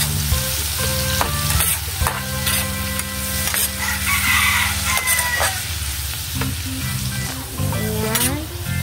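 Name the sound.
stirring pork sotanghon sizzling in a pan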